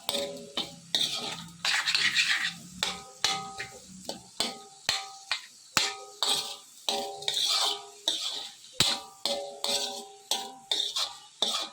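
A spoon stirs and scrapes through onions, oil and spices in a pan for gongura chicken curry, making steady rhythmic strokes about twice a second, close and clear with a faint sizzle beneath.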